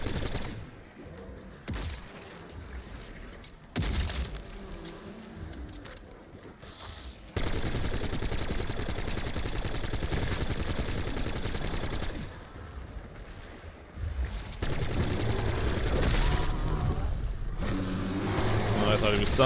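Gunfire rattles through a Black Ops 7 Zombies match on a farm map against a bear boss, bursts of rapid automatic shots mixed with game noise and engine-like rumble, with a player talking over much of it.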